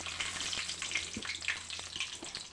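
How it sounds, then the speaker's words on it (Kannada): Mustard seeds spluttering and dry red chilies frying in hot oil for vangi bath gojju, a dense continuous sizzle dotted with sharp close pops and crackles, no voices. "ಸಾಸಿವೆ ಚೆನ್ನಾಗಿ ಸಿಡಿದ ಮೇಲೆ ಪಟಾಪಟ ಅಂತ ಅದಕ್ಕೆ ಒಣ ಮೆಣಸಿನಕಾಯಿಯನ್ನು ಆ್ಯಡ್ ಮಾಡ್ಕೋಬೇಕು"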